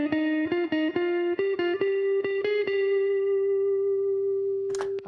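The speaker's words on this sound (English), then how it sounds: "So let's just listen to the guitar track as it is now." An electric guitar track played through the Bias FX amp simulator in a DAW, a sequence of distinct, slightly distorted plucked notes that settle into one long sustained tone before a brief sharp noise at the end.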